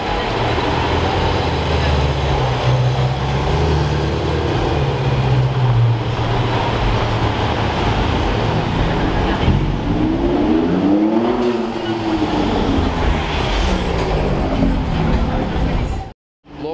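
Ferrari sports car passing on a road, its engine a loud sustained drone with a rising and falling pitch sweep as it goes by, amid steady traffic noise, with people talking.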